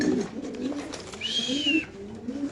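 Pigeons at a pigeon farm give a soft, low cooing that comes and goes, with a brighter rising call near the middle, all at moderate distance over a steady background.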